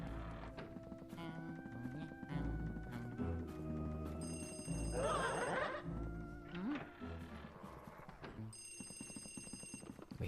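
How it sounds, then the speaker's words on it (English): A telephone rings in a dark room of the haunted mansion in Luigi's Mansion during a power outage, repeated electronic bell bursts over eerie game music and clopping effects, with a short pause between rings. "We hear a phone ringing in this room."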